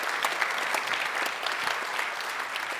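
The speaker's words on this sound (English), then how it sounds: "How about a round of applause for the governor?" Steady, dense applause from an audience at an awards event honoring the governor, continuous and even throughout with no speech over it.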